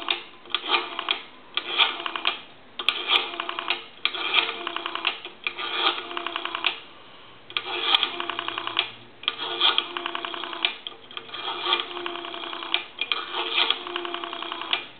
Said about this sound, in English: we're going to go ahead and dial our numbers